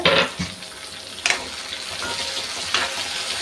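Tomatoes frying in a pan for a green gram dumpling and greens curry, a steady close sizzle with a few louder bursts as they are stirred, no talk.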